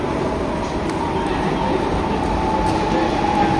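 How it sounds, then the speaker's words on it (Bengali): A local train pulls into a station, heard as a loud, continuous rolling rumble with wheel noise and a faint high squeal, steady and close for the whole stretch. "আমাদের ট্রেন এসে গেছে।"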